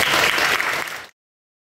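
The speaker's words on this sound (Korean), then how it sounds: "좋은 질문인데 박수 한번 부탁합니다." A lecture audience at a Christian talk on the resurrection breaks into loud, dense applause that holds steady for about a second and then cuts off abruptly.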